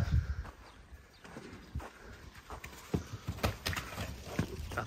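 Yearling colts move about, their hooves clopping in irregular, close steps, with a few soft snorts and scuffles over a quiet outdoor background.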